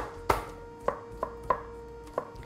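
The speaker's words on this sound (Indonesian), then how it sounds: "Dan lebih enak juga kalau misalnya kita cacah kasar kayak gini aja." A knife coarsely chops crushed garlic on a cutting board, producing five or six sharp, separate knocks at an uneven, unhurried pace, close and clear with no talking.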